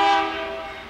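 An eastbound Norfolk Southern freight train sounds a steady, tonal horn blast near Fostoria yard. The horn is loud and close and fades slightly across the brief moment.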